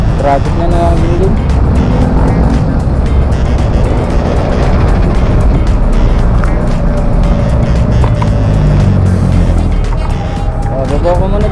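Road traffic rumbles close by with a steady engine drone and occasional passing vehicles and tire noise, while people talk over it throughout.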